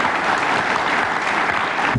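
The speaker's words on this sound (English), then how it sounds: "I think they deserve a round of applause" Steady, dense applause from an audience at a law school program, continuous and fairly loud across the whole stretch with no voices rising above it.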